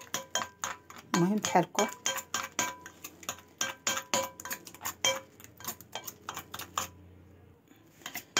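A spoon or wooden stick stirs a dough mixture for boiled-water pastries in a bowl, giving a run of close, irregular clinks and scrapes while someone talks over them.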